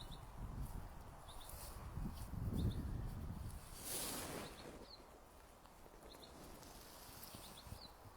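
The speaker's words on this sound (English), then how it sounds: "Hear all the birds." Several birds chirp in short, high bursts scattered across an arboretum in Forres, Scotland, in May, faint and distant over wind noise and a brief rustle.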